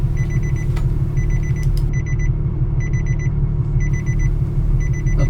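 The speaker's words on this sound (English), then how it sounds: "But just playing with the internal buzzer." A car's internal buzzer, triggered by an OBD scanner, beeps in rapid pulsed bursts, repeating with short gaps, over a steady low engine rumble.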